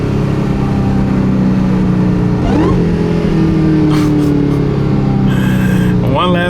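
A Dodge Hellcat running its stock intake downshifts, engine note dropping then blipping up sharply with revs, loud and close throughout.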